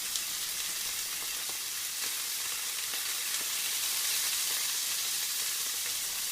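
Steaks frying in a skillet over medium-high heat, a loud, steady, close sizzle that carries on without a break and with no talk.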